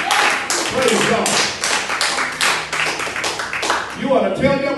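A church congregation claps hands in a quick, steady rhythm during Sunday worship, sharp repeated claps close and loud, with voices mixed in underneath.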